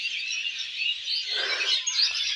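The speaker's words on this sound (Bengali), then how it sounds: "পাখিগুলো কীভাবে চেঁচামেচি করছে" Dense, continuous chatter of many birds chirping at once in a bamboo grove, a busy high twittering chorus with a brief rustle midway.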